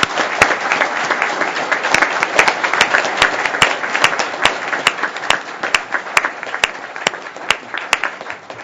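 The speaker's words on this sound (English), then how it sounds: "please give these terrific public servants a round of applause" Audience applause for award-winning public servants at a federal commission's open meeting, a dense, steady round of clapping with crisp individual claps standing out throughout, sustained at a fairly loud level.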